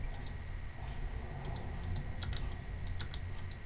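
Keys pressed and mouse clicks on a computer while selecting in ZBrush, heard as short crisp taps in small clusters over a steady low hum, close and fairly quiet, with no talking.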